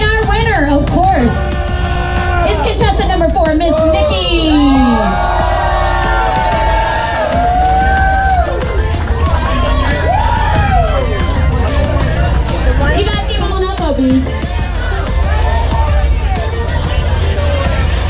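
A crowd at a bike week contest cheers and applauds a winner, a steady loud babble of whoops and shouts under an announcer talking.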